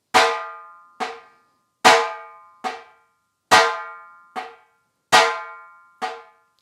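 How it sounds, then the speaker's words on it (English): Dhol drum struck on the thin tilly side with alternating downstrokes and upstrokes, heard as eight crisp, ringing hits in a steady swung pattern. Strong and weak strokes alternate, each decaying quickly into silence, close up and unaccompanied. "The tilly side consists of downstrokes and upstrokes."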